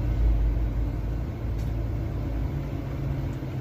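A truck rolls along a rural road as a steady low engine rumble, loudest at the start and then holding an even, continuous drone without talk.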